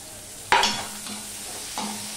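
Garlic dropped onto onions frying in oil for khichuri, giving a sudden loud sizzle burst that settles into a steady crackle, with a second smaller flare near the end.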